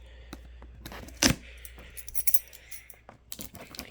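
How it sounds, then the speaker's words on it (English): Keys scrape and rattle while slicing packing tape on the box of a 42-inch Harbor Breeze Armitage Builder's Series black ceiling fan, with one sharp close rip in the middle and lighter scratching and jingling around it. "I'm using my keys to open up the tape"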